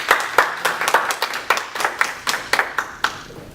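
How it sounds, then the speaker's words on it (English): Applause from the audience at a Kwanza economic empowerment entrepreneurship panel: close, loud, evenly spaced claps about three per second, sounding like a few people clapping rather than a large crowd. "Give a round of applause to Derek Pearson."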